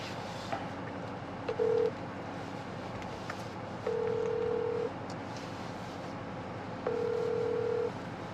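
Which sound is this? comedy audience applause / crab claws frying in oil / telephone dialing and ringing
telephone dialing and ringing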